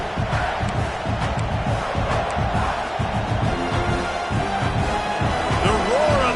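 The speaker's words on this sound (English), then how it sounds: "The roar of the crowd trying to fuel this defense to keep them pinned in their own end" Virtual stadium crowd in College Football 26 roaring during a South Carolina versus Virginia Tech game, a dense, sustained wash of cheering and shouting with thumps mixed in, while a commentator talks over it.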